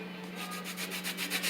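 Fresh lemon being grated for zest for an organic black Christmas fruit cake, giving a quiet, close, rhythmic scraping with quick repeated strokes against the grater and no talk.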